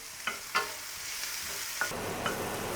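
Onions sautéing in a pan for fish cutlets, a steady close sizzle with a few sharp stirring scrapes, no voices.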